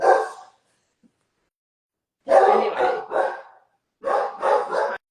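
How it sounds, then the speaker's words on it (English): A dog barks nearby in loud bursts: one brief bark, then a cluster of three quick barks and a final group of rapid barks, with only a stray spoken word between. "Well, I've never heard him bark before."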